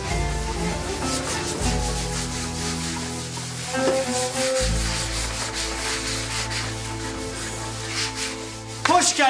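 Someone sands a school desk by hand with sandpaper, making continuous rhythmic rubbing and scraping strokes along with some faint background music.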